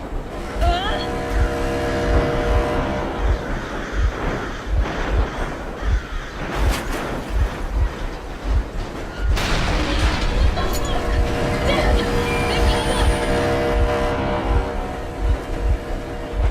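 A vehicle engine runs in the video game Metro Exodus, a steady low rumble with rhythmic throbbing pulses that carries on for the whole stretch amid other game sounds.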